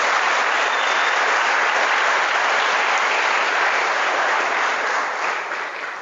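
Sustained applause from a large audience of young soldiers and police at a military-police ceremony, a steady dense roar of clapping that holds strong and then tapers slightly near the end, with no talking.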